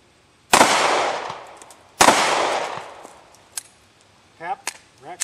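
Two loud, close pistol shots at a shooting range, about a second and a half apart, each a sharp crack followed by a long ringing decay, with brief faint voices afterward.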